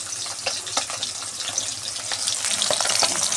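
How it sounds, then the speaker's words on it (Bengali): Fish fries in hot oil in a home kitchen, a continuous bright crackling sizzle with scattered pops, close and steady throughout. "এই যে মাছ ভাজা চলছে"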